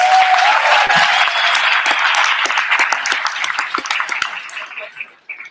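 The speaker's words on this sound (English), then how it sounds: "So give yourselves a warm round of applause, guys." Volunteers applaud themselves at a comic convention staff meeting, a loud dense round of clapping that gradually thins and fades out, with some voices mixed in.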